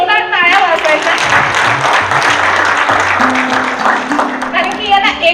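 Audience at a family get-together applauds loudly and steadily throughout, with dense sustained clapping and a voice briefly audible over it.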